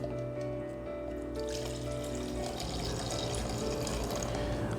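About 200 ml of water pours into a small pan for homemade ginger syrup, a steady close trickle that thickens into a fuller rushing splash after a second or so, with no talk.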